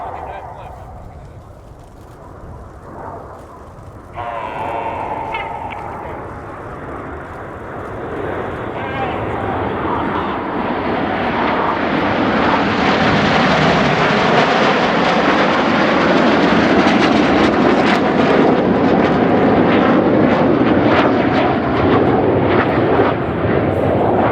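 Royal Air Force Red Arrows jets roar past in a formation flying display at RIAT 2024, a loud, broad engine rush that swells and holds steady as the formation passes, with a commentator talking over it.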